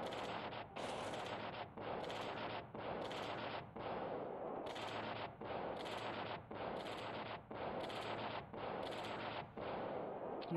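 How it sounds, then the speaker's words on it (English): A bombing attack in the World Conqueror 3 strategy game plays out as about a dozen loud, rattling blasts. They repeat in an even rhythm, each roughly a second apart, with no talking. "Let's go ahead and bomb it."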